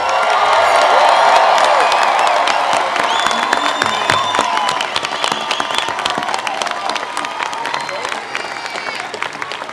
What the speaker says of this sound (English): let's all applaud and welcome those whom we are here gathered to celebrate